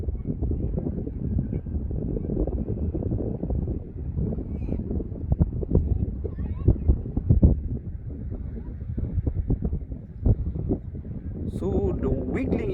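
Strong wind buffets a GoPro mounted on a stick, giving a constant low, rumbling roar that swells and gusts at close range, with some faint talking under it.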